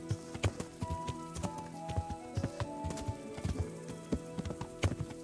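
Horse hooves clip-clop steadily in the medieval video game Kingdom Come: Deliverance, a regular trotting rhythm of hard knocks over a faint backdrop of tonal music.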